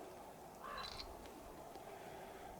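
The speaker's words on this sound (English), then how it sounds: "And there's the crows." Crows caw in a couple of short harsh calls from some distance, set over a faint outdoor background with no one talking.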